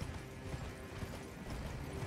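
Horse hooves clip-clopping in Elden Ring, a steady galloping patter of rhythmic thuds carried under continuous game background sound, with no voices over it.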